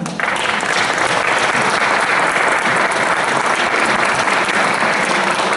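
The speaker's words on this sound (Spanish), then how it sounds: "para quien pido un gran aplauso" An audience gives loud, dense applause for poet Sergio Vera at a Chilean folk verse performance. The clapping starts abruptly and stays at a full, even roar throughout.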